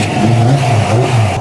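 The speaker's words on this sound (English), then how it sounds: "cold start on the ZL1" A Chevrolet Camaro ZL1 V8 rumbling loud and close on a cold start, a deep, throbbing idle with a choppy, uneven pulse that rises and dips slightly.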